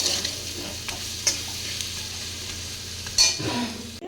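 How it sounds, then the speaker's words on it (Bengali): Shrimp fries in a pan, making a continuous close hiss of sizzling broken by a few stirring scrapes and clatters, with a louder knock of the utensil near the end. "এই যে ভাজা হচ্ছে দেখুন"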